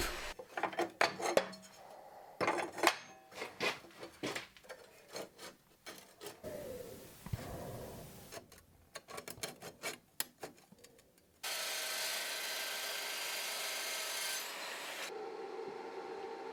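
Metal parts being cut for a homemade rocket stove: scraping and rasping strokes with clattering knocks, then a sustained loud grinding cutter whine that runs steadily before stopping abruptly.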